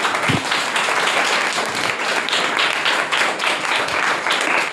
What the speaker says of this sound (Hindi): आपके लिए जोरदार ताली